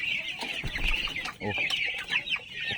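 Small young chickens on a farm clucking and peeping in a busy, overlapping chorus, fairly close, with faint background murmur.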